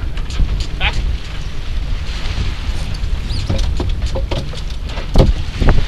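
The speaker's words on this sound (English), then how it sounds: "feel the breeze now coming off that sail" Steady wind roaring past a sailboat's sail out on the water, broadband rushing with buffeting on the microphone and a few small knocks and rattles.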